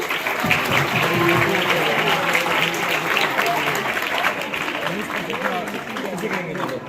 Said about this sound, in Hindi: जोरदार ताली उनको।